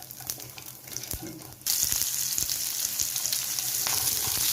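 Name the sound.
tempering spices in hot oil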